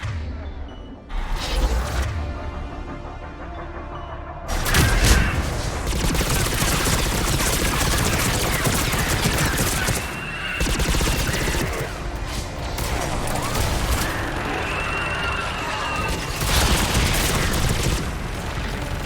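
Sustained missile and gunfire combat in the video game Mass Effect 3, at the temple on Thessia: dense continuous fusillade with booming blasts and mechanical clatter, loud and unbroken throughout.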